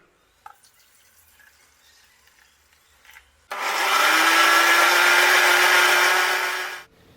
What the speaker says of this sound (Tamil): இதை வந்து ஜூஸரில் போட்டு நம்ம ஜூஸ் எடுத்துகிட்டு வந்துடலாம்.